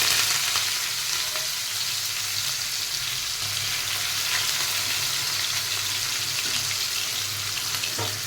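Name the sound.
onions frying in hot oil with cumin seeds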